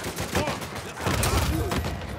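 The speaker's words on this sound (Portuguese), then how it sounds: "Caralho, só um tiro." Gunfire rings out during an online match of Uncharted 4, a PS4 video game, with shots cracking through a dense, noisy game soundscape. A voice is faintly present in the mix.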